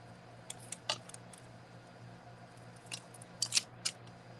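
Scissors trim ribbon on a bow for a handmade card, a few quiet, crisp snips scattered across a hushed room, clustered toward the end.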